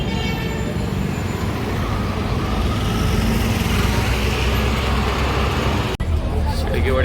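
Dense, loud road traffic rumbles at a roadside bus stop near Kolhapur Naka: engines droning and passing vehicles, with a brief horn and some voices in the mix, then a sudden cut.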